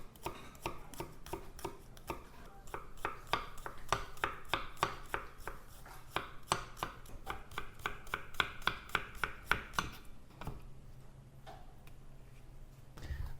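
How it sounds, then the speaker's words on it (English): Shallots being minced with a knife on a cutting board, a long run of quick, even, crisp taps that speed up and grow denser midway, then slow to scattered chops, with no speech. "I also got 2 shallots. I'll peel these and mince them."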